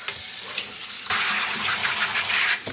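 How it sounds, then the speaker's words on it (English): Tap water gushes steadily into a basin, a continuous rushing stream that grows fuller and brighter partway through before easing off near the end, close and loud with no talking. "I'm gonna fill up the basin with water"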